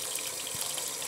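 Water runs steadily from a sink tap while makeup brushes are washed, a continuous close hiss and splash with no talking over it.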